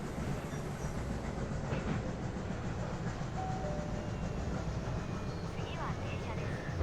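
A train in the video game Running Train rolls along its rails with a steady, dense rumble and faint clatter that hold at an even loudness throughout, close and continuous with no breaks.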